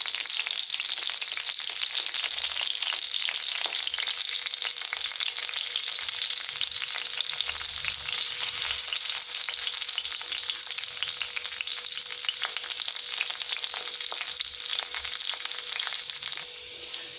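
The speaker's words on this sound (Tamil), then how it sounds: "ரெண்டு பல்லு பூண்டு, மிளகாய் இதெல்லாம் போட்டு வேக விடணும்." Garlic cloves, chillies and urad dal frying in oil in a pan for coriander thuvaiyal, a dense, even hissing sizzle that runs unbroken and close for the whole stretch, with no talk over it.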